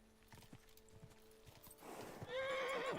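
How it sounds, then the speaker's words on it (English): Horse in Kingdom Come: Deliverance whinnying loudly near the end after a run of hoof clip-clops, the neigh a rising, wavering cry that swells over the footfalls. "Dude, my horse! My horse is freaking the fuck out!"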